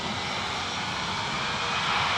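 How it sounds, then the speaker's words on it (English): A jet aircraft engine spools up for takeoff at Manchester Airport, a steady, broad roar that holds constant and swells slightly. "I can hear the sound of the engine starting for takeoff"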